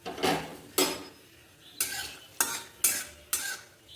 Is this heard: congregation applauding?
no